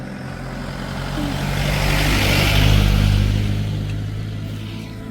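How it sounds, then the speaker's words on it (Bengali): Vehicles climb a mountain road near Zuluk on a January day as snow approaches, a steady engine drone with road rumble swelling as they pass close, peaking midway and then fading as they move on up the slope. "এই গাড়িগুলো ওপরে যাচ্ছে"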